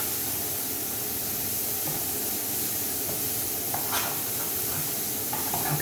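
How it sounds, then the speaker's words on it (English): Meat sizzles steadily in a hot pan, a dense continuous hiss with a few soft scrapes and pops near the end. "you can just smell that beef frying away"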